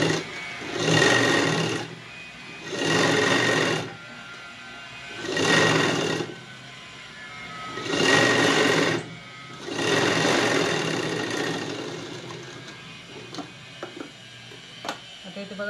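A sewing machine runs a topstitch along the pressed seam of a puff sleeve being finished with a border, in five steady bursts of about a second each, loud and close, with small handling clicks near the end and no talk.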